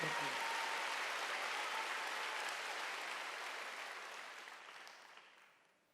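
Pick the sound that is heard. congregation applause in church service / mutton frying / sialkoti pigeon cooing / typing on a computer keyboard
congregation applause in church service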